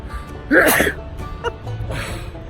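A single sudden allergy sneeze outdoors, loud and close, followed by faint shuffling and background noise.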